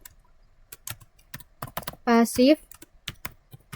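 Rapid keystrokes on a computer keyboard enter a router command, quick clicks throughout with a short voiced sound in the middle.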